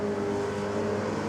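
A 4WD race car launches off the line at a night drag race, its engine roaring loud and steady in a harsh, sustained rev with no voices.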